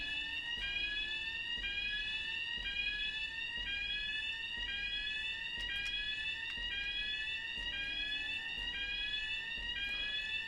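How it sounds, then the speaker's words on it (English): In the video game Tokyo Dark: Remembrance, an electronic fire alarm rings in repeated rising sweeping tones, shrill and steady throughout, with no voices. "I mean, it is a fire alarm."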